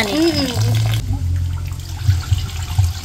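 Rice for suman balinsuso is washed and drained, with water swishing and trickling up close. Low gurgling draining continues as a voice speaks at the start.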